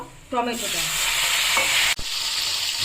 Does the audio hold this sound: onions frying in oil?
yes